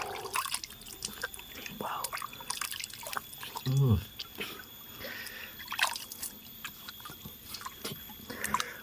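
Spring water at a temple is scooped up in the palms and spills back, making soft splashes and drips close by. People talk quietly around it, and the overall level stays low.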